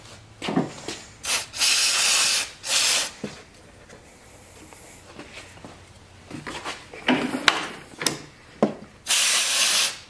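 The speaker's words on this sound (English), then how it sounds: "Carbon choke cleaner." Carbon choke cleaner sprays onto a Kawasaki carburetor in several loud, close hissing bursts of a second or two each, separated by quieter pauses with light handling knocks.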